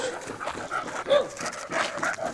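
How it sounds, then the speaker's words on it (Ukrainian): German shepherd dog barking and whimpering during obedience training, several short close barks and whines in an uneven rhythm. "Нам треба собаку заспокоїти, щоб вона не гавкала на інших собак."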